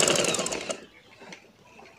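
A sewing machine stitches folded baby frock fabric in one loud, steady burst of needle chatter that stops abruptly partway through, leaving faint rustling handling noise.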